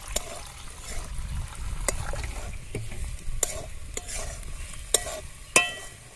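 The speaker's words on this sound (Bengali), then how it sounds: "সব টমেটো পেস্ট করে রেখেছিলাম ওতে খানিকটা জল দিয়ে দেবো" Tomato paste with salt and ground spices frying in a pan sizzles steadily as water goes in, with several sharp clinks of a spoon stirring against the pan.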